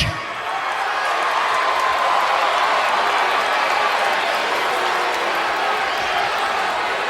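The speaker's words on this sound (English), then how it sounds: "Those of you who are cheering me right now" A live wrestling crowd roars in a sustained, dense wall of cheering that holds steady and loud throughout, with no clear individual voices standing out.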